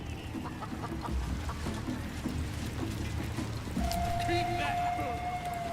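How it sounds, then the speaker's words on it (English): A chicken clucks in the fantasy role-playing video game Baldur's Gate 3, short repeated clucks heard faintly beneath other game sounds and a steady background hum, with a brief tonal game effect partway through. "Chicken ain't dead, is it?"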